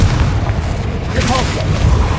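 Confringo fire-spell explosions from the Hogwarts Legacy video game burst as deep, booming blasts over a steady rumble of combat, with a voice calling out during the action.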